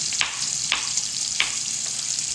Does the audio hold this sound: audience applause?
no